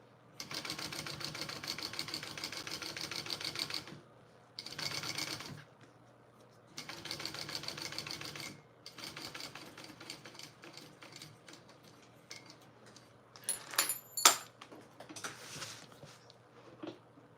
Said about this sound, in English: when you sew this on, this should sew the sides of the pocket shut